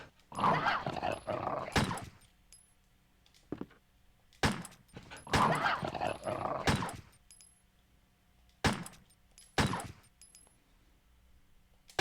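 Snarling, barking zombie dog in Resident Evil 1 Director's Cut, several loud growling bursts in two main clusters with short sharp hits between, over a low game ambience.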